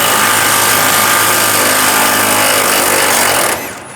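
A power tool with a 21mm socket runs loud and steady, unscrewing a rear bumper bolt on a 2007-2013 Chevrolet Silverado 1500, then stops abruptly near the end.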